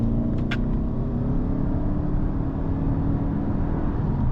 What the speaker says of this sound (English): Pulling out of here, we'll get another acceleration bit. Again, we are in sport mode.